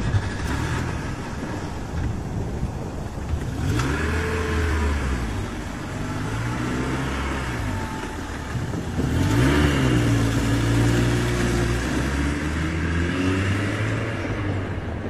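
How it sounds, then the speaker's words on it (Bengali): A car engine starts, idles and revs as the car pulls away onto a laterite dirt road, with rising and falling engine tones, fairly close and loud, as a sound effect in a rural Bengali audio story. "গাড়িতে স্টার্ট দিয়ে ওরা এগিয়ে চলল সামনের দিকে।"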